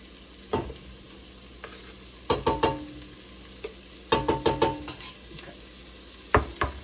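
A large batch of onions frying in a pan until brown, with a quiet sizzle under repeated bursts of sharp utensil taps and scrapes against the pan, close up and with no speech.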